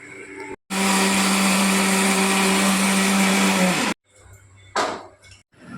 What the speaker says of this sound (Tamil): மொத்தம் மிக்சியில் போட்டு அரைச்சி கொண்டு சொல்கிறேன்